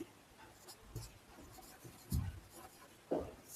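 Chalk or pen scratches across a board during a Hindi trigonometry lesson, a few short quiet strokes spaced out over a faint background with no talking.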